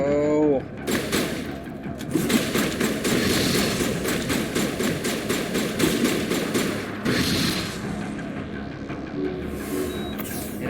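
Repeated heavy blasts and rapid gunfire in combat in the Mass Effect Legendary Edition video game, forming a dense, loud, steady pulsing barrage for most of the stretch before easing near the end.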